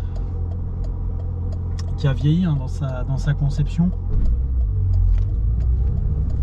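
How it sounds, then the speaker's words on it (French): A 1990 Peugeot 205 Junior with a 1.0 L four-speed engine rumbles low and steady while driving, the drone continuing under someone talking throughout. "c'est une voiture qui va être un peu plus bruyante qu'une voiture d'aujourd'hui"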